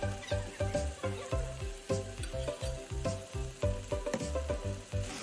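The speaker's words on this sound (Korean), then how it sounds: "간장 3스푼을 팬의 벽에 뿌려 10초 기다리세요." Soy sauce sizzles loudly in a hot pan with chicken and sugar, a close, crackling fry that pulses in a quick, even rhythm with no voices.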